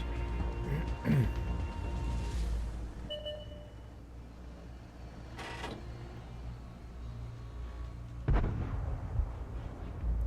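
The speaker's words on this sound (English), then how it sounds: "You see shots coming in from Slappy" Tank cannon fire in a tank video game: a few heavy booming shots spaced several seconds apart over a low rumbling engine bed.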